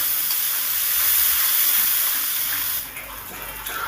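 Spices sizzling in a pan as a little water is added while cooking a vegetable curry, a loud close hiss of steam and frying that holds steady, then softens to a lower crackle.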